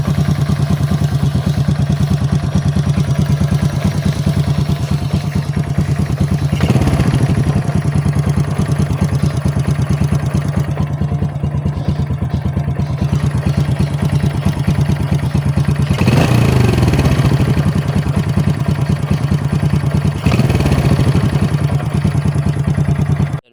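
Worn cam chain tensioner on a motorcycle engine idling close by, a steady low engine drone with a fast, faint clicking rattle riding on it throughout, no talking.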